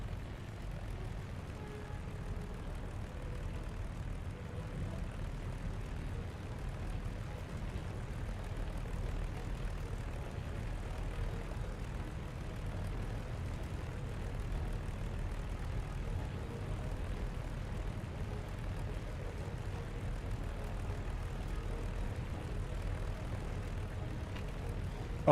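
A propeller aircraft engine hums steadily through a takeoff run in the War Thunder combat game, a faint, low continuous drone that holds even throughout with no other sounds on top.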